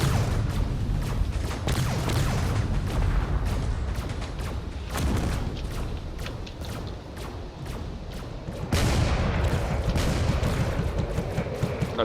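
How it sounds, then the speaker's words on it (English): Dense, continuous weapon fire in a space combat game with frigates and a battleship, rapid overlapping shots and thuds rolling without pause at steady loudness, with a heavier burst near the end. "a lot of the shots are going into the other frigate here"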